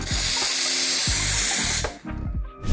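Steam wand purge on an espresso machine: a loud, close, continuous hiss of steam blasting for nearly two seconds, then cutting off into a few sputtering bursts, with a low clunking pulse underneath.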